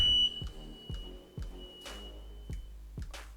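A household smoke alarm gives a thin, steady high electronic tone lasting about two seconds before cutting off, faint beneath a series of soft low thumps and a brief hiss of noise.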